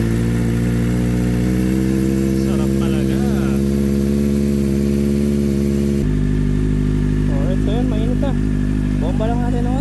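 Kawasaki ZX4RR motorcycle with an Akrapovic exhaust idling on a cold start, a steady, loud mid-pitched engine drone that holds throughout and drops slightly in tone partway, while people talk over it.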